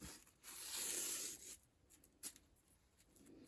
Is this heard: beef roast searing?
no